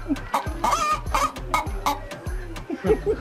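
Chickens cluck repeatedly and close by in short rhythmic bursts, heard while tin-can chicken is being cooked, with no speech over them.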